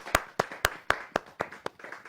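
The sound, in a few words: audience clapping at poetry gathering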